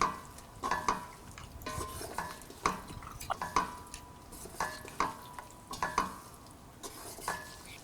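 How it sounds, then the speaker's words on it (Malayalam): A spoon stirs ghee into a sweet Ada Pradhaman mixture in a pan, giving a steady run of soft scraping and clinking strokes with a faint sizzle underneath and no talking. "ഇതിലോട്ട് 1 ടേബിൾ സ്പൂൺ നെയ്യും കൂടി ചേർത്ത് നന്നായിട്ട് മിക്സ് ചെയ്യുക."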